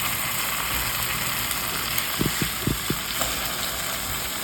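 Bread slices, two at a time, frying lightly in a pan for crème brûlée toast give off a steady, soft sizzle, with a few low knocks and clatters from the pan partway through.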